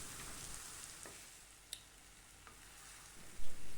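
Nagercoil-style avial vegetables are stirred in coconut oil in a pan, with a soft, steady sizzle, a few faint scrapes and taps, and a louder clunk near the end.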